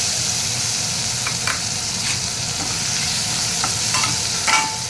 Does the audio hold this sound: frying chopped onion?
yes